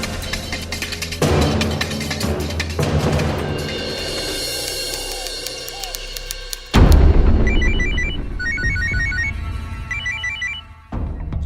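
A telephone rings unanswered, with repeated electronic ringtone bursts in a regular pattern over dramatic background music, loud and close.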